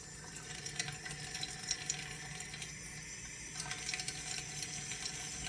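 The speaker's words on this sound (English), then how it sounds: "add 2 tablespoons of cold water to your sourdough culture" Two tablespoons of cold water poured into a sourdough culture while making a buckwheat batard, heard as a faint, steady trickle lasting several seconds with no talking.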